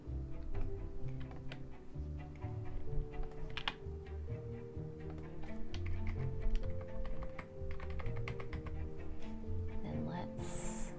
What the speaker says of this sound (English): I'll just type right in here